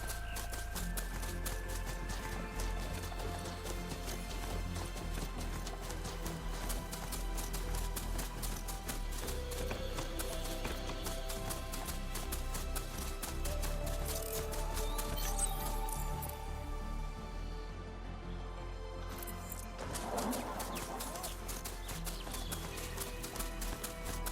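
A riding mount's hoofbeats in the video game Horizon Forbidden West, heard as a steady rapid clip-clop under a dense, continuous game soundscape.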